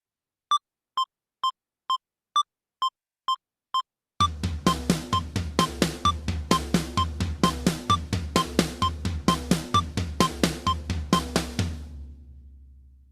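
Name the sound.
double stroke drum rudiment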